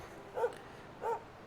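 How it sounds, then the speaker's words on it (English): A worried dog whimpers twice in short, rising whines about half a second apart, close and fairly soft, over a quiet background with no talk. "Dog worried."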